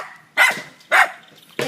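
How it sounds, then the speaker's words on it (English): Small dogs at a neighbor's house bark in three short, sharp bursts at moderate distance, evenly spaced over a couple of seconds, with no talking. "These little dogs are so funny."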